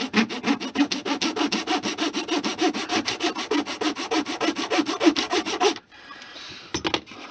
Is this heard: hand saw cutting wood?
yes